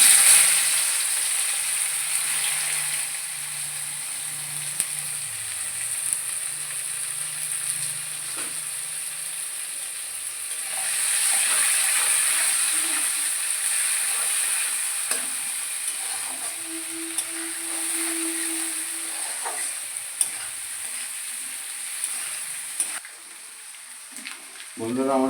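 Onions frying in a pan give off a steady, soft sizzling hiss that runs the whole time, close but fairly quiet, with a voice talking faintly in the background.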